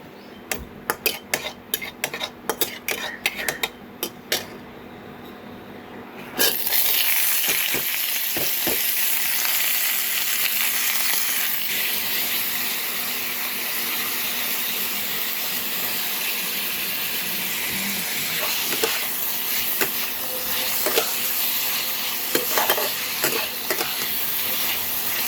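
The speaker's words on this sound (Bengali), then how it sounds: "তো এখন বসিয়ে দিয়েছি, কালো জিরাটা ভাজা হোক।" Black cumin (kalonji) seeds frying in a hot pan: after a few clinks of a utensil, a steady loud sizzle and crackle starts and carries on close by, with occasional stirring clatter.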